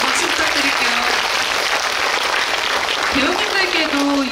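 Applause from the audience at a film screening Q&A for The Moon, loud dense clapping throughout, with voices and cheering mixed in.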